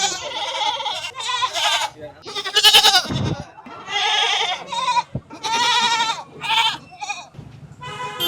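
Goats and sheep bleat repeatedly at the Akkirampura sheep and goat market, a busy livestock fair where many animals call one after another, loud and close, with overlapping cries and brief gaps.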